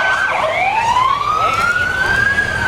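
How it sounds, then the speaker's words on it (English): A Park River Fire and Rescue tanker truck passes at a Fourth of July parade, its loud screaming siren sweeping steadily upward in pitch as it goes by, with no talk. "Park River Fire and Rescue tanker truck going by with the loud screaming siren."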